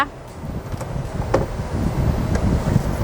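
The air conditioning fan of a used 2008 Toyota Camry 2.0 G blows a steady, close rushing whoosh inside the cabin, with slight fluctuations in airflow.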